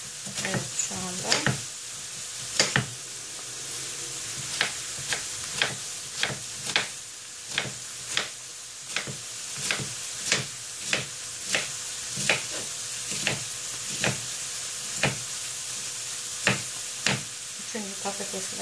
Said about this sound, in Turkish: Sonra patatesleri ince ince doğrayarak tavaya aldım.